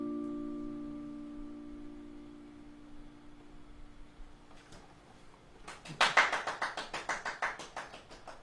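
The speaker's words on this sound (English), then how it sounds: "Clapping for all of the other people who cannot clap." A small group claps after a song at a live-streamed concert, a run of close, crisp claps breaking out after a fading sustained tone and continuing steadily to the end.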